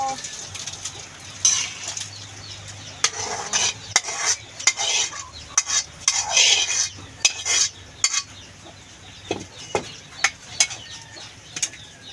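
Cooked ginataang papaya (papaya in coconut milk) is ladled from a pot into a serving dish: irregular clinks, scrapes and knocks of a utensil against metal and ceramic, fairly close, with quiet gaps between.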